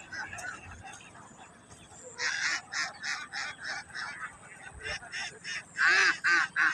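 Ducks quack in a series of loud, harsh, rhythmic calls, several close together, over quieter background murmur and faint voices.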